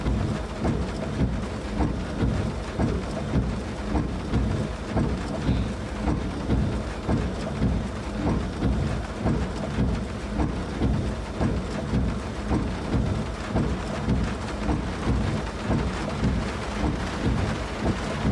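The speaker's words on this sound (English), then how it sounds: "that sounds like the rain hitting the roof of my old 1985 Escort" Constant drumming rain on a car roof in a video game, a dense rattling patter with a low rumble underneath, steady throughout with no voices.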